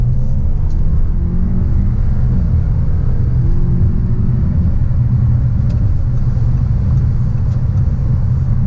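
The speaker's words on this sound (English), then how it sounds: "So the car actually shifts nice and smooth. It does have an 8-speed automatic gearbox" A 2017 Audi A6 2.0T Premium S Line with an 8-speed automatic gearbox on the road, its engine and tyres giving a loud, steady low rumble from inside the cabin with no distinct shift breaks.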